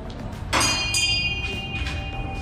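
A temple bell rings at Rewalsar lake in Mandi, Himachal Pradesh, with two close strikes followed by a sustained, steady ringing tone over low outdoor background noise.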